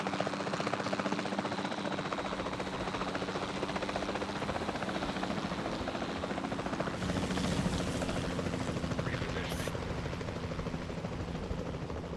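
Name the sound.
helicopter flying in the video game Jurassic World Evolution 2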